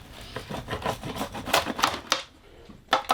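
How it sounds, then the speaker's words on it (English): Repeated crisp crunching cuts slice through a Mexican pizza on a wobbly picnic table, quick rhythmic strokes close by and fairly loud, then a brief pause and one final cut. "Now we have our pizza cut."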